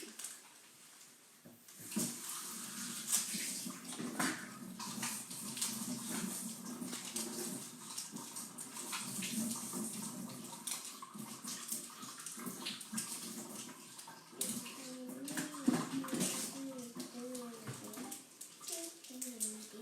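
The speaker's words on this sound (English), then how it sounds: "run your yogurt tub through some water and just give it a quick clean" Tap water runs into a basin while a small plastic yogurt tub is rinsed, a soft continuous splashing with faint voices in the background throughout.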